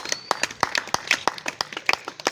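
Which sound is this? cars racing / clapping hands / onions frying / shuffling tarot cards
clapping hands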